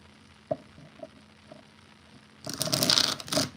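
Tarot cards being shuffled by hand, a few faint isolated riffles and taps at first, then a dense close burst of quick flapping, rustling shuffle for about a second toward the end.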